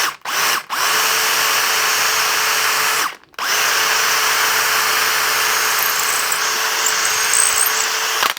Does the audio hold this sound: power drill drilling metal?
yes